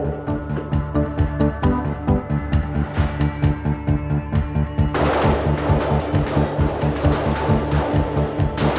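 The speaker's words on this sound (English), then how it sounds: "firing a handgun" Rapid handgun shots at a law enforcement firing range, a loud, close, steady string of sharp reports that thickens into overlapping fire from several shooters partway through.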